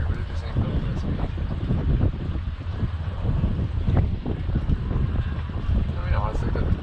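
A boat with an upgraded outboard engine runs at speed on the Potomac River, giving a steady low motor roar under heavy wind buffeting, with voices talking faintly over it.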